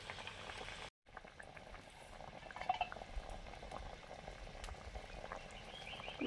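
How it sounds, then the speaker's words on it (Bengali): Bhola fish curry broth with potatoes bubbling in a pot, a soft continuous burble of small pops, faint and close, with a brief dropout near the start. "ঝোল ফুটে গেছে, আলু অনেকটা সেদ্ধ হয়ে গেছে।"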